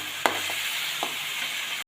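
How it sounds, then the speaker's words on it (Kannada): Fenugreek leaves frying in a pan give a steady close sizzle throughout, with a couple of brief scraping stir strokes and no talking. "ಎಲ್ಲ ಹಾಕಾದ್ಮೇಲೆ ಅದನ್ನು ನೀಟಾಗಿ ಫ್ರೈ ಮಾಡ್ಕೋಬೇಕು."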